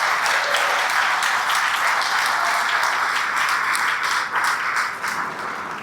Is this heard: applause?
yes